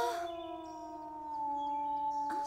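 A wolf howls in the animated series Horseland, a long, clear, wavering tone with layered harmonics that holds steady, then bends upward at the end, heard alone over a quiet background.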